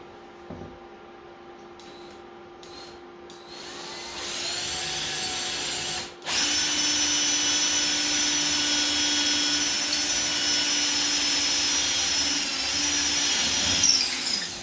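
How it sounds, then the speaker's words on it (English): Power drill boring through wood for truss rod access in a scratch-built guitar neck. A few short taps come first, then a loud, sustained high whine that briefly dips and resumes, steady to the end with no voices. "So now we're just going to drill through the front for the access."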